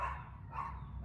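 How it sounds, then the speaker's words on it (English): A dog barks outdoors, a few faint, fairly distant barks over low background noise. "there's a dog"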